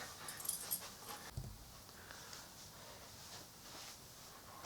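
Dog whimpering and whining softly indoors, a couple of faint high cries early on over a quiet background, no talking.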